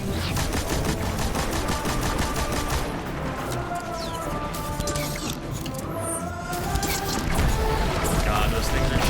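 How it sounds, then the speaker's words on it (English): Enemy gunfire in the Destiny 2 video game, with steady rapid shots rattling on under dense game noise and music for the whole stretch, while a player's voice talks over it. "God, those things are shooting at me."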